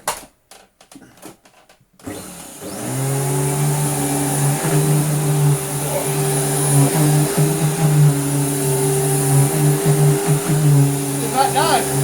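A restored Dirt Devil Royal Eclipse Plus 6750UK upright vacuum cleaner starts after a few clicks and runs with a loud steady motor drone and whine, with a person talking over it.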